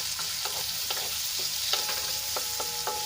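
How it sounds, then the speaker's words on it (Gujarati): Onions sauté in oil in a pan for a homemade pizza topping, a bright continuous sizzle broken by quick rhythmic clicks and scrapes of a spoon stirring, close and steady. "અહીંયા સૌપ્રથમ આપણે પહેલાં ડુંગળીને સાંતળી લેવાની છે"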